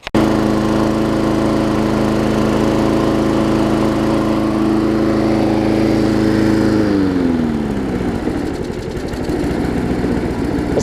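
A Briggs & Stratton Quantum engine on an MTD push mower, one that needs a flywheel key, runs with a loud, steady droning hum. Around seven seconds in, it drops to a lower, rougher idle that keeps going, close to the listener and with no talking.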